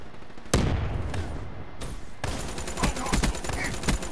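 Bursts of automatic gunfire from the video game Black Ops 3 crackle loudly, with sharp shots at the start and a rapid volley of repeated cracks in the second half.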